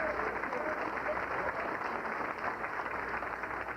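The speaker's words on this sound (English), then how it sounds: "How about a round of applause for them?" Banquet audience at a speedway awards dinner applauds the local ambulance service, a steady wash of many hands clapping throughout, moderately distant and even in level.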